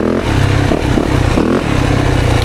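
A 2024 Yamaha YZ 450FX dirt bike revs hard in a muddy pit on a woods ride, its rear wheel spinning, with a loud, steady engine drone that surges and dips.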